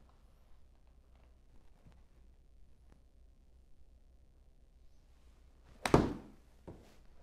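A golf chip shot on a course, the club striking the ball once as a single sharp, loud thunk, followed moments later by a softer second knock, after a long quiet stretch.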